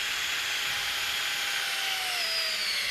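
A power drill bores a quarter-inch hole through the metal of a screen door, giving a steady, close, high grinding whine that holds for the whole stretch with no voices.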